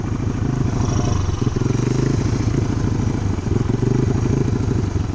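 An amphibious ATV floating on all-tire flotation, with 9-inch front and 10-inch rear wheels at 20 PSI, runs its engine on open water, giving a loud, steady, rattling motor drone close by for the whole stretch.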